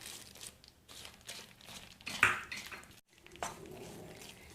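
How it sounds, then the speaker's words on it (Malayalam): Chopped nuts added to a Horlicks burfi mixture in a pan, with a scattered series of small scrapes, clinks and crinkly rustles, a sharper clatter midway, a brief pause, then more stirring and scraping. "ഇനി ഞാൻ ഇതിലേക്ക് ചോപ്പ് ചെയ്ത് വെച്ചിട്ടുണ്ടായിരുന്ന നട്ട്സ് ഇട്ട് കൊടുക്കുകയാണ്"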